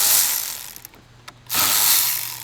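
A ratchet works a 10 mm battery bolt on a 2014 Jetta TDI. It gives bursts of dense, fast clicking, pauses for a couple of soft ticks, then resumes loud and close.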